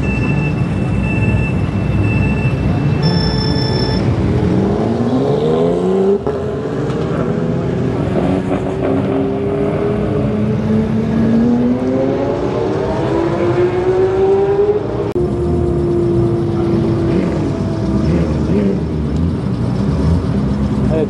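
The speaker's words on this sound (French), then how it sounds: "Un Urus performanté contre une 911, je crois c'est une GT3" Lamborghini Urus with performance upgrades lined up against a Porsche 911 GT3 at a night drag race in Dubai, loud engines roaring and revving with rising pitch sweeps as they accelerate past, sustained and close throughout.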